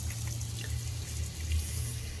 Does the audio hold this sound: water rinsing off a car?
yes